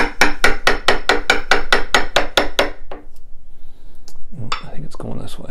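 A hammer strikes a wood chisel cutting into a closet door board, a rapid run of about a dozen sharp, loud, evenly spaced knocks that stops abruptly, followed by a few quieter taps and someone speaking.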